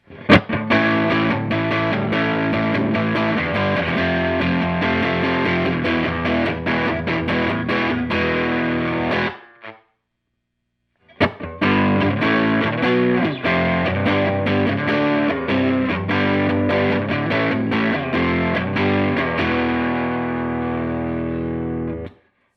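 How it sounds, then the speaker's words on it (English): Electric guitar through an Ibanez TS9 Tube Screamer reissue pedal with distortion at 12 o'clock, moderate grit, strummed chords played loudly and close, a brief silent pause midway, then playing resumes and rings out. "Distortion at 12 o'clock."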